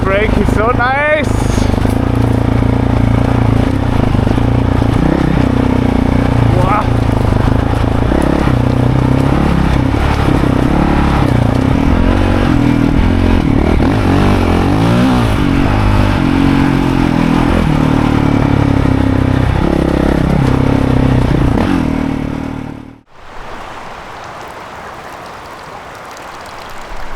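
Dirt bike engine braking on a solo enduro ride on Chiloé Island, a loud close engine drone with shifting pitch over wind roar, ending abruptly into quieter ambience.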